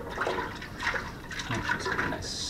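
Liquid for a batch of mead pours and gurgles steadily into a container, up close and continuous, with a splashy texture throughout.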